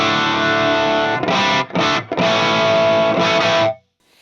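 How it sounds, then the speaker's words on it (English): Electric guitar played through the transformer preamp of a Fractal FM9 Turbo at low gain, with dense, lightly driven sustained chords and a couple of brief breaks before it stops abruptly. "So this is the sound of the transformer preamp with just low gain at the moment."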